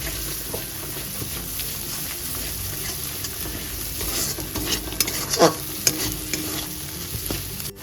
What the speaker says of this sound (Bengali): লো টু মিডিয়াম ফ্লেমে এই কাজু বাদামটাকে কষে নিতে হবে যতক্ষণ না তেল ছেড়ে দিচ্ছে